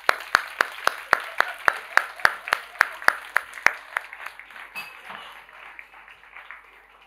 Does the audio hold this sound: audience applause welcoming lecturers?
yes